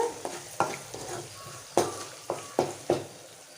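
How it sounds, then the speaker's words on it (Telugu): Moong dal frying in a pan while being stirred: a steady soft sizzle broken by about eight sharp scrapes and clacks of the spoon against the pan, close and clear with no talk. "పెసరపప్పు అయితే కొంచెం మగ్గాయండి మరీ ఎక్కువ ఫ్రై చేసుకోకూడదు"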